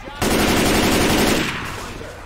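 Gunfire in the video game Left 4 Dead 2, a loud rapid burst of automatic shots that starts abruptly, runs for about a second and then tails off.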